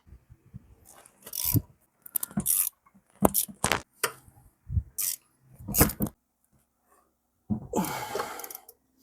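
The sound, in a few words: tightening dirt bike crown bolts with a wrench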